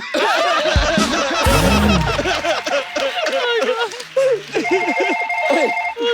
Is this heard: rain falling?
no